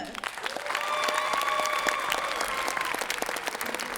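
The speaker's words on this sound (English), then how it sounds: "please give a round of applause to Leo Kuma" Sustained audience applause at a percussion ensemble performance, welcoming a drum teacher, with a dense steady patter of many hands clapping throughout and a few faint tonal sounds mixed in.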